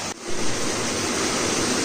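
Water rushes steadily through a narrow channel built for a traditional Konkan village fish trap, a continuous close broadband flow with a brief dip near the start and no voices.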